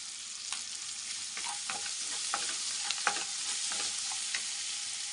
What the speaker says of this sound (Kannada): ಇದೆಲ್ಲ ಒಂದು ಸ್ವಲ್ಪ ಫ್ರೈ ಆಗಲಿ.